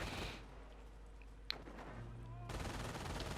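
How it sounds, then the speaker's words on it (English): Machine guns rattle in a 2v2 Company of Heroes match on the Duclair map, a dense, fairly loud wash of battle noise with one sharp crack near the middle and possible faint talk underneath. "Oh, 3 MGs. Wow. Tons of MGs, and they're being very annoying."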